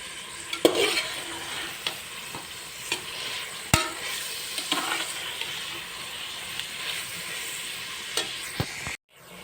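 Chopped onions frying in hot oil in a pan for mushroom biryani, with a steady sizzle and repeated stirring scrapes and light utensil clinks, close and clear without talk.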